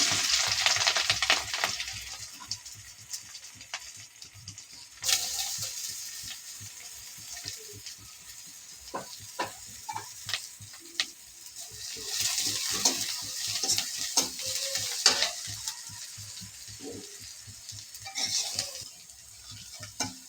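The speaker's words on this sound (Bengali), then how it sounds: "দেখা এখন পেঁয়াজ মরিচটা একটু ভাজা হয়ে গেছে" Oil sizzles and crackles in a pan of frying onions and chilies with scattered stirring scrapes, the hiss swelling and fading in bursts at moderate volume, no talking.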